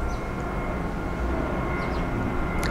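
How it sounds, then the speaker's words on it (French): A low, steady engine rumble from an airplane overhead, constant throughout with no voices. "Ça, c'est un avion qui passe au-dessus."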